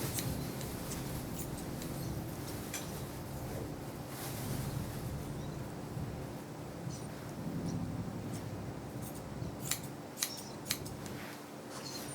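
Scissors snip through a dog's fur during grooming. The light clicks are faint and irregular over a steady background hiss, with a few sharper ticks near the end.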